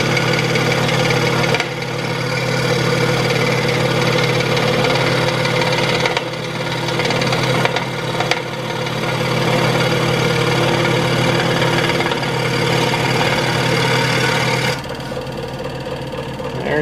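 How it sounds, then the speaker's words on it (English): A saw cuts through quarter-inch-thick wood for a flag craft, a loud buzzing, vibrating motor noise that runs in long stretches with short dips where the cut eases off, and no talking. "This wood's about 1/4 of an inch thick, and it's cutting it pretty easily."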